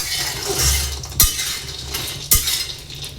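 A spoon stirs vadi frying in a pan, giving two sharp metallic clinks against the pan over a soft, steady background hiss, close up.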